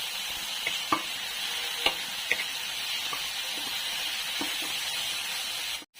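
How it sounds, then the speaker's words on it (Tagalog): Tomato, onion and garlic fry together in a pan for squid adobo, giving a steady close sizzle with a few sharp clicks from stirring and no talking. "nilagay na ni Ate Linda yung kamatis, sibuyas, bawang."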